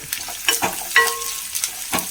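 Chopped onion frying in a pan with a steady sizzle, broken by several scraping stirs of a spatula; no one speaks.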